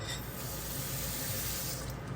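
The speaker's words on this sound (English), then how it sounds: "Add just a little bit more water" Water poured into a cooking pot of soaked sprouted moong dal, making a steady close rushing hiss that runs the whole brief moment without talk.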